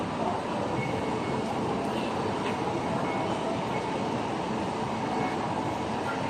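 Train running at Sukhumvit Station in Bangkok, a steady, loud rolling rumble with broadband rail noise held throughout, no pauses and no voices on top.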